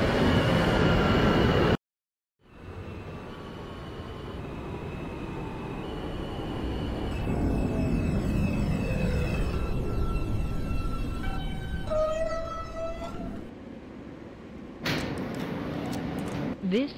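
An R160A subway train in the OpenBVE simulator runs a Manhattan-bound R local, with a steady rumble and rising motor whine as it pulls away, then screeching brake tones near the end; an onboard voice announces stops over it.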